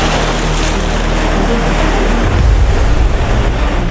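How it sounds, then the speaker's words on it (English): Tsunami waves surging in from the Indian Ocean make a loud, continuous broadband roar of rushing water that swells into heavier low churning near the end, with no voices present. "A raging flood from the ocean."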